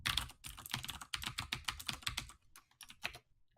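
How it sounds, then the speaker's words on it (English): Fast, steady typing on a computer keyboard, close and clear, a dense run of sharp key clicks that slows to a few scattered taps at the end, with no voices. "My keyboard you'll definitely pick up."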